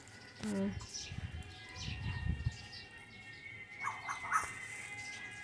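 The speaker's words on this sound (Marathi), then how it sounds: "पक्ष्यांचा आवाज ऐकतच असाल" Birds chirp in a home garden among small flowering plants and fruit trees, including a flowering star fruit tree, a few faint tweets and calls scattered over quiet outdoor background noise.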